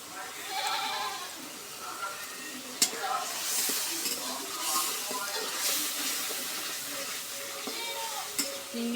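Shrimp stir-fried in cooked spice paste in a pan for a pumpkin ghanto, a soft sizzle with scraping stirs and a couple of sharp utensil knocks, under someone talking.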